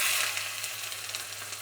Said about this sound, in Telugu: జీలకర్ర కూడా బాగా వేగుతుంది